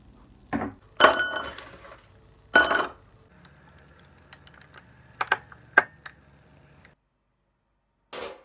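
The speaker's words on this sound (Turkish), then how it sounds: "Şimdi buz küpü lazım buz." Ice cubes drop and clink into a glass in a home kitchen, several sharp bright knocks and rattles spaced over a few seconds, near and separated by quiet.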